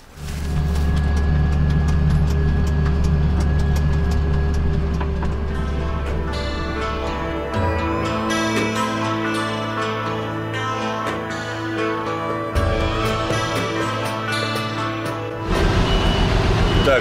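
Tractor engine driving on farm fields, a steady loud low rumble with constant drone that shifts pitch partway through as the load changes, close and continuous with no talk.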